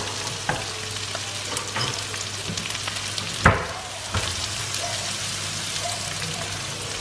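Chopped onion frying with whole spices in a pan, a dense steady sizzle with frequent scraping stirs and a sharp clatter of a spoon against the pan midway, close and continuous with no talking.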